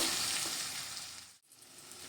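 Taro pieces frying in hot oil for a vegetarian kochur dum, a steady close sizzle with stirring that briefly drops out for a moment before resuming.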